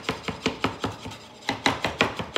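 A knife rapidly chops garlic finely on a cutting board, producing about a dozen crisp, evenly spaced taps with a brief pause midway, close and clear with no talking.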